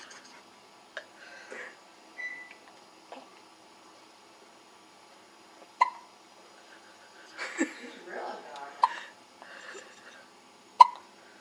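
A newborn girl, about two and a half days old, hiccups in short, sharp bursts scattered across a quiet room, with a few louder catches near the end and faint breathing between them.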